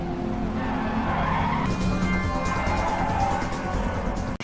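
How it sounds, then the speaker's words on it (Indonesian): Car tires skid and squeal loudly during a film car chase, a sustained screech over roaring engine noise that ends with a sudden cut. "Roma dan Arjun menemukan kembali mobil Don dan terjadi aksi kejar-kejaran lagi"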